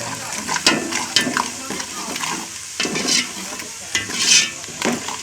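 Turmeric stirred into food frying in a pan, with irregular scraping strokes over a steady sizzle, fairly close and moderately loud, with some voice activity in the background.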